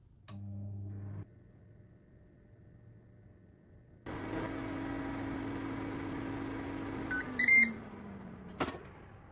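An air fryer baking banana blueberry muffins hums steadily at close range, a short motor drone first, then after a gap a longer whirring run ending in a few electronic beeps.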